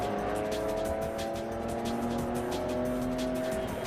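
A Thunder Roadster race car runs on track at Iowa Speedway during a racing event, its engine droning steadily and loudly with a constant whine, under faint crowd or wind noise.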